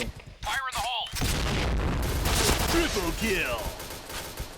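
A loud burst of explosive booms and gunfire-like blasts in the shooter game Point Blank rolls on for several seconds, with voices talking briefly at the start.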